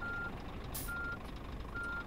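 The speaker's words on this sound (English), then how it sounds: "Let's get that annoying beep off" Repeating reverse-warning beeps from a truck backing up in the driving game On the Road, three evenly spaced tones over a steady engine rumble, with a brief burst of noise in between.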